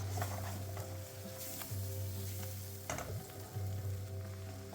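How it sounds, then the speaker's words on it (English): Tomatoes stir-fry in a pan over medium heat, sizzling quietly and steadily while a low mechanical hum runs underneath and occasional scrapes and taps of a utensil stir them. "I'm just going to stir fry this over a medium heat for about 2 or 3 minutes"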